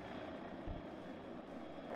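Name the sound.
attack helicopter in WARNO video game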